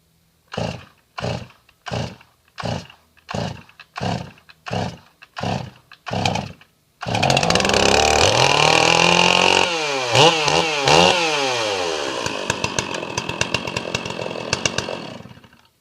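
A chainsaw recovering from a flooded engine is pull-started with about nine rhythmic cord pulls, then roars to life loudly, revving up and settling into a rough running idle.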